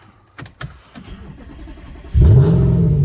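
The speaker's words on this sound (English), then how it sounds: "So we'll just start it up to just give you a feel of the engine note" An Audi RS5 engine starts up close by: a few faint clicks and a brief crank, then the engine catches with a loud, deep roar and settles into a steady rumbling idle.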